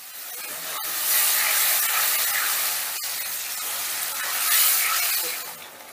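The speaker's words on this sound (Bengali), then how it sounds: "এবারে আদা আর টমেটোটা ভালো করে কষিয়ে নেব যতক্ষণ আদা আর টমেটোর কাঁচা গন্ধটা না যাচ্ছে।" Ginger and tomato paste sizzle in a hot pan with a steady hiss that swells and eases, broken by a few sharp clicks of stirring, with no talking.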